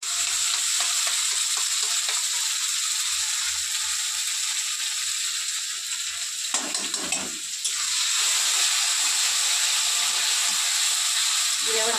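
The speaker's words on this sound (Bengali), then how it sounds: "কড়াই গরম হয়ে গেছে" Onions fry in hot oil in a heated kadai with a steady, loud hiss and sizzle that never lets up. Faint scraping and stirring clicks sit underneath.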